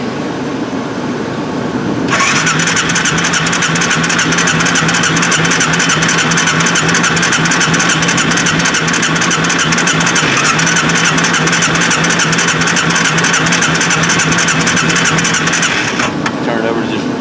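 A 2003 Arctic Cat 400i ATV engine idling loudly and close after a cold start, a continuous steady drone that begins abruptly and cuts off near the end, with voices over it.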